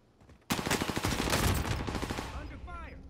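A rapid burst of automatic gunfire erupts in Call of Duty: Modern Warfare, loud and close, a string of sharp rattling shots before fading into softer echoes and chirping effects.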